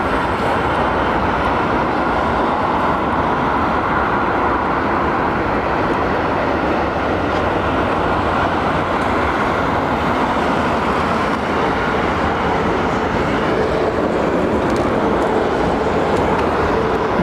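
An Airbus A380 airliner at London Heathrow Airport gives off a steady, loud, broadband jet roar that holds constant throughout, with no clear rise or fall.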